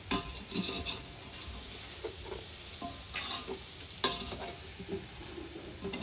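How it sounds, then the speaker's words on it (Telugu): Spices including chili powder, garam masala and chicken masala are stirred and fried in a pan for meal maker pulao. A quiet, steady sizzle runs under repeated scraping stirs and light clinks of a utensil, with no voices. "మసాలాలన్నీ వేసి బాగా వేయించాలి కొంచెంసేపు"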